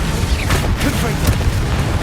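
A Confringo blasting spell goes off in Hogwarts Legacy, a dense, loud booming burst with crackling rumble lasting throughout, close and full, mixed with game sound.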